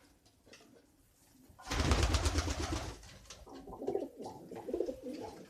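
A nesting pigeon coos near its eggs: a loud close burst of sound gives way to a series of soft, throaty coos repeating in short phrases.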